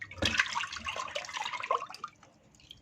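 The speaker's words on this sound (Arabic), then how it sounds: "هدلقه كده بالراحه اهو" Liquid caramel-custard mixture being poured slowly into a pot, a close gurgling, splashing stream that fades to a few drips.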